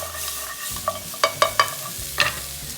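Mutton frying in a pan for a Chettinad chukka varuval, a soft background sizzle with several distinct metallic scrapes and taps of a spoon stirring, close up and without speech.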